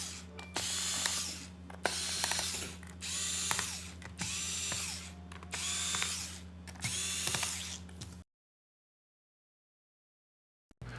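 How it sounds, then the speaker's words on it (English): A small powered screwdriver whirs in repeated short bursts while removing the bottom cover screws from a Dell 3100 laptop, with a faint steady hum underneath. The sound stops abruptly near the end. "we're going to start by taking the bottom screws off so we can remove the bottom cover"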